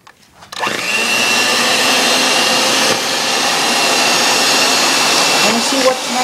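An electric mixer working chocolate chip cookie dough switches on and runs as a loud, steady motor whir for several seconds, with slight changes in pitch near the end.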